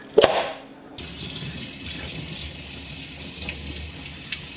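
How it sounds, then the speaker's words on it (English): Tap water running over raw pork being rinsed in a sink, a sharp knock at the start, then a steady close gush of flowing water with faint splashing. "First thing we want to do is go ahead and rinse off the meat."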